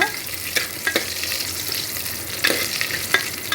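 Curry leaves frying in hot oil for sambar give a steady close sizzle, with brief crackling bursts where the leaves spit. No one speaks.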